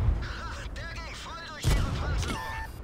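A tank gun fires in the World of Tanks video game, with a heavy thump at the start and a sharp, loud blast midway, under vocal-like tonal sounds.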